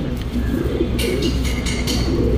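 A pigeon held in the hand coos softly and steadily at close range, over a constant low background hum with faint chirps.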